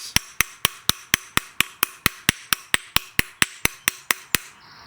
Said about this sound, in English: I always tap the bearing in with a brass hammer